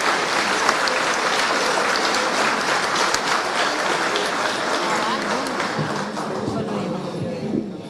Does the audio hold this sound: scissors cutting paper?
no